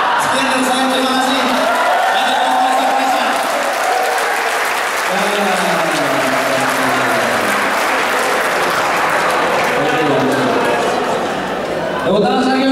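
Sustained, dense audience applause fills the room after a stand-up comedy set at a police film festival, steady and loud throughout, with a voice talking over it.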